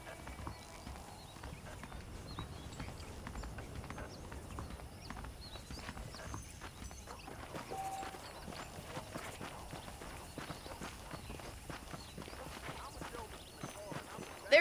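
Saddled horses' hooves clip-clop steadily in Red Dead Redemption, a continuous moderate walking rhythm running under ongoing talk throughout.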